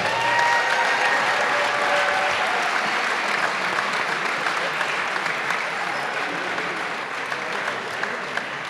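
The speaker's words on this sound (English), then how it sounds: "how about a big round of applause for Quentin Davis and Alex Witt" Spectators at a college men's basketball game on senior night give a long, steady round of applause, many hands clapping densely at a constant level, with a few faint voices and cheers mixed in.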